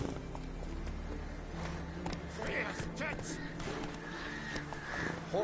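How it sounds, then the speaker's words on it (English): Horse hooves clatter in a steady galloping rhythm in The Witcher 3 on PS4, running continuously under game music and voices that talk over much of it. "Horses."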